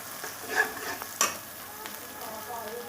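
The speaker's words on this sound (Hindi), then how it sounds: "ये अब हमारा लहसुन भी भुन गया है और प्याज भी।" Onion, ginger and garlic paste frying in a pan, with a steady soft sizzle and a few sharp clinks and scrapes of stirring, heard close and moderately quiet with no talk.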